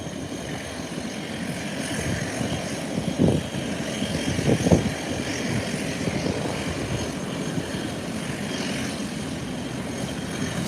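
An aircraft drones steadily through the whole stretch, a broad propeller-engine roar at moderate distance holding even loudness, with a couple of brief thumps partway through and no voices.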